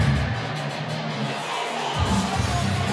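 An arena crowd at a wrestling event cheers and whoops as a wrestler heads to the ring, a broad wash of noise from many people with a brief lull before it swells again.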